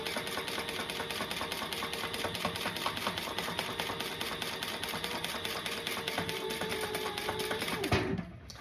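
A sewing machine running an eighth-inch topstitch through fabric, a fast steady mechanical whirr and rapid needle clatter close up, stopping abruptly near the end.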